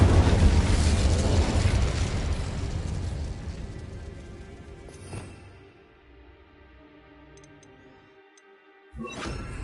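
An Incendio fire spell bursts out in Hogwarts Legacy with a loud roaring whoosh that fades over several seconds, followed by a sharp second burst near the end.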